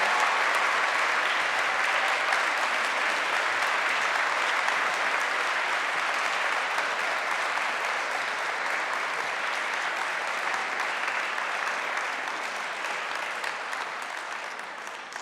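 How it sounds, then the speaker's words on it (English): Sustained applause from an audience at an alumni awards ceremony, a steady dense clapping that holds for the whole stretch and fades slightly at the end, with no talk over it. "Please join us one more time in a final recognition to our outstanding alumni with a final round of applause."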